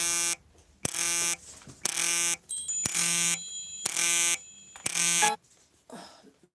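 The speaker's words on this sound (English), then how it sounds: "That's an alarm." Loud, harsh buzzing alarm blasts repeat in about six evenly spaced bursts, each roughly half a second long with brief gaps between them.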